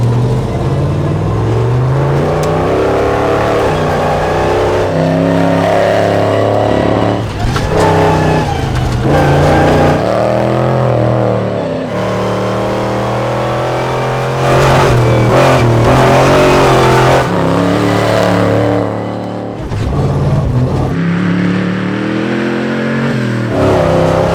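A Bronco in an off-road racing video game makes a second gear launch, its engine revving hard and loud with rising, shifting pitch that dips briefly between gears and builds again, running steadily throughout.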